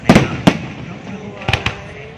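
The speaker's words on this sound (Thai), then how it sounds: "นี่คือการแสดงพลุจำนวน101นัดนะครับ" Fireworks burst at a Loy Krathong festival display in Roi Et, Thailand, with several sharp, loud bangs in two quick pairs against a faint background.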